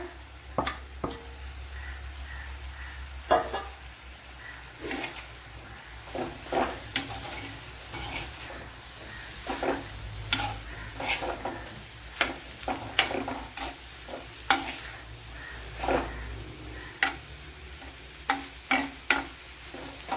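Carrot pieces are tossed into a pan of sautéed, salted onions and stirred, with a low frying hiss underneath repeated sharp spatula scrapes and clacks that come in uneven bursts.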